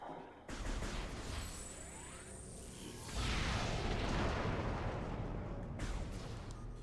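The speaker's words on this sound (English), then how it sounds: "Beam combo? Yeah, super missile." A super missile fires in Metroid Prime Remastered, a sharp blast at the start followed by a heavier booming rush that swells midway and rumbles on loudly to the end.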